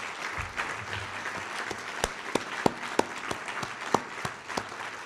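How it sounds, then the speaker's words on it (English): A crowd at a state arts awards ceremony applauds honorees, a steady round of clapping with several sharp, individual claps standing out close to the microphone, sustained for about five seconds. "Let's have another round of applause for this year's honorees."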